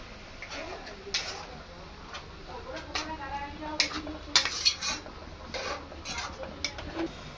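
Fish bait is worked by hand in a bowl, giving soft, irregular squelching and scraping with occasional sharp clicks against the bowl, close and fairly quiet, with background noise throughout.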